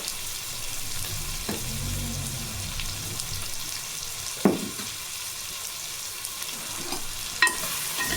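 Cucumber pieces fry in a pan with chili powder, turmeric and salt while a sambar is prepared: a steady, close sizzle with light stirring and two sharp utensil clinks against the pan.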